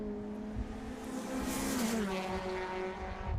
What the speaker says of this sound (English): It's close racing in the Irish touring cars as they stream through Southside Motor Factor's corner and out onto the straight.